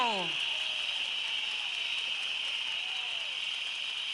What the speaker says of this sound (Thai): ถ้าไม่มีอะไรก็ปรบมือกันหน่อยเร็ว